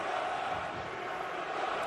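Stadium crowd at an XFL football game between the New York Guardians and DC Defenders, jeering New York with a dense, steady roar that holds loud throughout.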